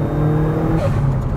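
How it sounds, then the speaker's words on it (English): A new Subaru WRX's boxer engine drones steadily at mid revs with a low, throbbing rumble. The sound is loud and continuous from inside the car, with no voices. "always love the boxer rumble, and it's definitely got that"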